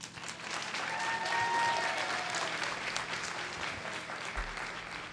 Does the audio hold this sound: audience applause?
yes